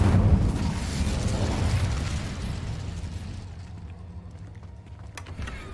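Incendio fire spell in the game Hogwarts Legacy, a loud fiery burst that erupts at once and then slowly dies away into a fading crackle.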